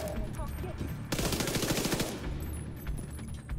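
Rapid bursts of MP5 submachine gun fire crackle in The Division 2 shooter game, with a dense sustained volley in the middle of the stretch amid game noise.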